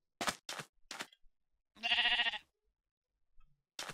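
A sheep on a custom video game map gives several short bleats in quick succession, then one longer, drawn-out bleat, then another short one, with silence in between.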